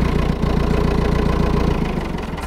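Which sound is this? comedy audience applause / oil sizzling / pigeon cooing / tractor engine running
tractor engine running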